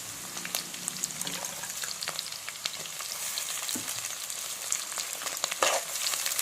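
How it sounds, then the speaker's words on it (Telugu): Onions and chillies fry in a pan for mutton fry, giving a steady, dense sizzle with scattered crackles and light stirring close by, without any voice. "ఒకసారి ఉల్లిపాయలను వేగనివ్వండి."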